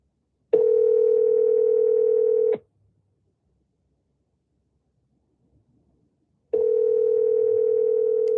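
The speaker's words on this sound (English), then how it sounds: "maybe I do give her a call really quick" A telephone dial tone sounds while a listing's phone number is called: two loud, steady tone bursts about two seconds each, split by a few seconds of near silence.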